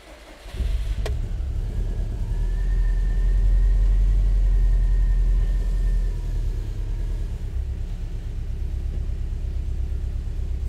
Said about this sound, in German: Und dann lassen wir mal langsam die Räder drehen.